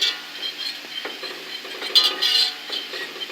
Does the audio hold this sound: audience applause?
no